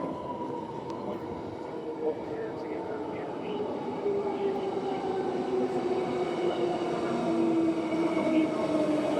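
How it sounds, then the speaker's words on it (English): A train rumbles steadily into an elevated station on Perth's Thornlie-Cockburn Line, its drone and rail noise swelling louder over several seconds, with faint wheel squeal and background voices. "There's a train coming in right now."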